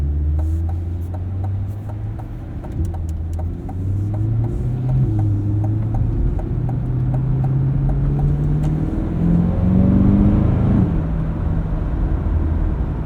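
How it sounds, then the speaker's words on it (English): A 2025 Chevrolet Corvette Stingray 3LT with an 8-speed dual-clutch gearbox drones loudly from inside the cabin, engine pitch climbing, then dropping at each quick upshift, repeating several times over a steady road rumble. "This dual clutch does a really nice job snapping off upshifts smoothly and quickly."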